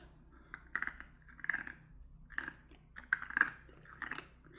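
Hard, crunchy corn nuts chewed with dentures: close, dry crunches in irregular bursts with short pauses between bites, faint against a quiet low hum.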